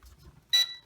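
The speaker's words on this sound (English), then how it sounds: "A single beep is heard and the status LED lights are now blinking in a different sequence." One short, clear electronic beep from a Snaptain SP7100 GPS drone completing compass calibration sounds close by after a brief faint rustle.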